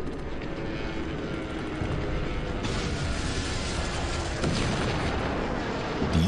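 Bombs explode during a Korean War air raid, with dense, continuous booming blasts and a roaring rumble like aircraft overhead. The sound stays loud and unbroken throughout, with no talking.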